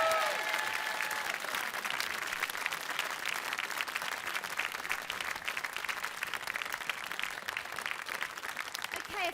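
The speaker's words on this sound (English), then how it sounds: "Is that one final round of applause for Mr." A studio audience applauds at the close of a BBC quiz show, with dense sustained clapping that fills the room steadily from start to finish.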